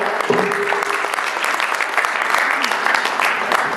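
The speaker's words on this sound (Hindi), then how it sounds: "प्लीज एक बार फिर जबरदस्त तालियों के साथ स्वागत कीजिए" An audience at a community gathering in a civic centre hall applauds loudly and steadily throughout, a dense continuous wash of clapping with a brief tone near the start.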